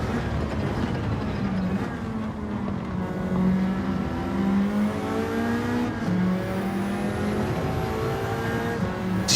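A GR4 race car engine in Gran Turismo 7 drones steadily at high revs, its harmonic whine rising and dipping with gear changes, loud and close throughout with almost no talk.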